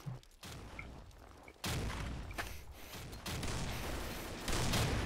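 A grenade explodes in the online shooter Combat Arms: a sudden, loud broadband blast that becomes a sustained, rumbling roar of noise and lingering debris, with no speech over it.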